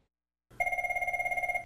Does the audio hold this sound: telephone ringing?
yes